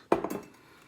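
A utensil stirs pork roast gravy in a pan, giving a quick cluster of close metallic clinks and scrapes that fade into quiet.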